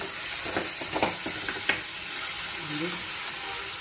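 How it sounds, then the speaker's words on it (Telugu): Chopped tomatoes frying in a pan for bitter gourd curry, with a steady close sizzle and a few light scrapes and taps from stirring. "టమాటా వేసుకోవాలి చూడండి టమాటా కూడా వేగిపోయింది"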